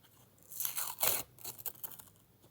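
Close, crinkly tearing and rustling of a paper packet being opened, in a few uneven bursts.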